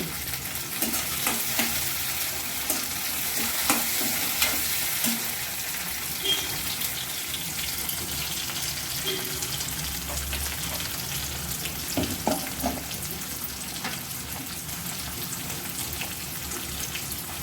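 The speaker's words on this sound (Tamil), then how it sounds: "வெங்காயம் கருவேப்பில் வரமிளகாய் மூணு வதங்கட்டும்" Onions, curry leaves and three dried chillies sauté with tomato in a pan for mushroom pepper masala, a loud continuous sizzle with frequent scraping stirs running throughout.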